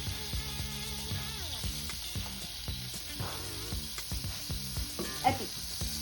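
Oil sizzles steadily in a pan while cheese pasta is cooked, with a continuous bright frying hiss and repeated clinks and scrapes of stirring throughout, plus one sharper knock near the end.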